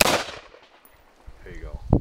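AR-15 rifle shot, loud and sharp at the very start, its blast decaying over about half a second, followed by quieter faint clatter and a second short impact thump near the end; outdoor shooting setting.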